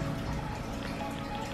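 Fine glitter is poured into a small storage container, a steady, dense patter of tiny grains close by that lasts throughout with no speech.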